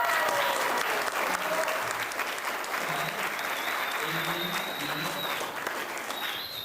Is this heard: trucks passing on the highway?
no